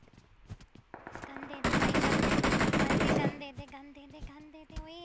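Sustained automatic gunfire rattles in the PUBG Mobile battle royale game, a dense loud burst of rapid shots lasting a couple of seconds, with scattered single shots and talk around it.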